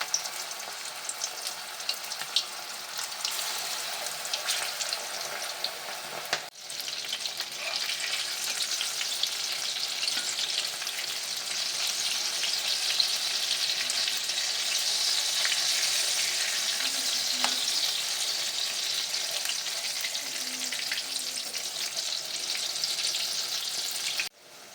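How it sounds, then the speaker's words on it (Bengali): Mixed vegetable pakoras deep-frying in hot oil, a steady, dense sizzle and crackle that holds at an even, close level throughout, with a brief dip partway and no talking. "পকোড়াগুলো আমি এক এক করে ছেড়ে দিচ্ছি।"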